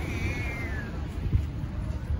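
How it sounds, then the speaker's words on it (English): A cat in a Chiang Mai street gives one rising, drawn-out meow near the start, fairly faint over steady outdoor background noise. "It's doing this weird cat meow sound."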